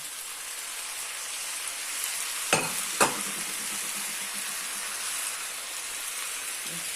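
Pheasant and tomatoes sizzle in a pan with onion, a soft steady frying hiss broken by two sharp clinks of a utensil against the pan partway through.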